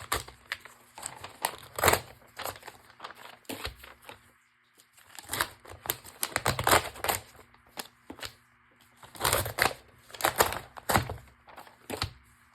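Book pages are torn out by hand in bursts of sharp papery ripping and crinkling, several separate tears with short quiet gaps between them, close and fairly soft.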